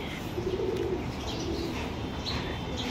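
Pigeons in a home breeding loft with a tin roof coo softly through a steady wash of background noise, with low murmuring calls returning across the short stretch.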